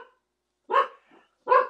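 A dog gives two sharp barks about a second apart, close and loud, with a faint whimper between them and silence around.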